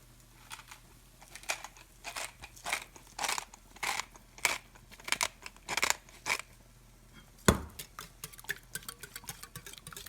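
Whisk tapping and beating against a bowl while eggs, milk, salt and pepper are whipped for a vegetable and chorizo frittata; a steady run of crisp, rhythmic clicks, close and fairly quiet, ending with one sharper knock.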